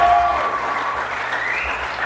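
Applause from a school audience for a senior softball player at a spring signing day, a steady wash of clapping that stays loud and even from start to finish.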